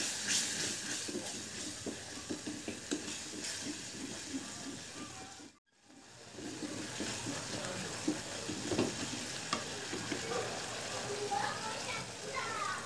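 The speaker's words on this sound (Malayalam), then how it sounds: "അതിനുശേഷം നമുക്ക് മുളക് പൊടിയും മഞ്ഞൾപ്പൊടിയും ചേർത്ത് നല്ലപോലെ വറ്റിച്ചെടുക്കാം." Tomato, tamarind, chilli powder and turmeric masala fries in a pan for a spicy Thalassery-style anchovy curry, giving a steady hissing sizzle under a person talking, with one brief dropout midway.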